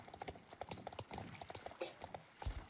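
A Dwaken horse in a video game clip-clops along at a steady trotting rhythm, crisp hoof taps repeating evenly throughout, moderately quiet, with no talking.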